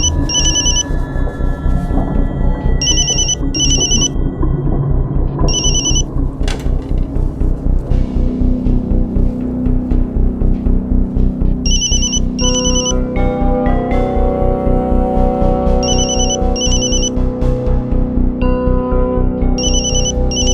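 A phone ringtone rings over and over without being answered, loud repeated bursts of beeping tone in a steady rhythm, with no voices.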